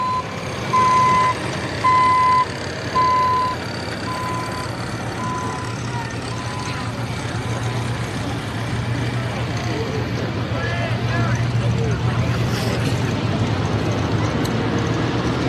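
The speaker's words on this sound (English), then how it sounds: "Those trucks coming up next." At an evening truck pull event, a vehicle's reversing beeps sound in a loud, regular series at first, then give way to a continuous low truck engine rumble under the busy background noise.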